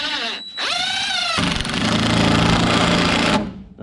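A small drill drives screws into a Coosa board boat deck: a brief motor whine rising in pitch, then a loud, sustained buzzing grind that runs for about two seconds before cutting off.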